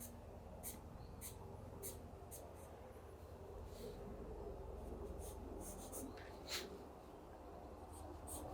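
A 6B charcoal pencil hatches across paper in quick, repeated strokes, giving a steady dry scratching with sharper ticks as the pencil is rotated and lifted, close and alone over a soft background hum.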